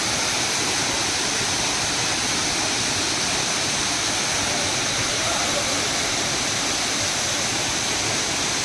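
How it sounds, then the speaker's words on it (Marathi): Savdav waterfall pours steadily, a dense, continuous roar of rushing water filling the whole clip at an even loudness, with no pauses or voices. "तो धबधबा बघा मस्त क्लास"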